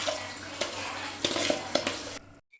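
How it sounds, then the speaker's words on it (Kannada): Washed rice goes into a pot of cooked fenugreek masala, with a soft wet pour, scraping and a few sharp utensil knocks against the pot, followed by sudden quiet. "ಈಗ ನಾನು ತೊಳೆದಿಟ್ಕೊಂಡಿರುವಂತ ಅಕ್ಕಿನ ಇದ್ರೊಳಗಡೆ ಹಾಕ್ತಾ ಇದ್ದೀನಿ."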